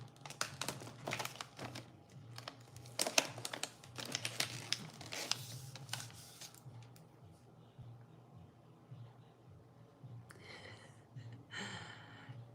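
Wrapping paper crinkles and rustles in bursts while Christmas gifts are wrapped, close and fairly quiet, with brief pauses and a few sharper crackles near the end.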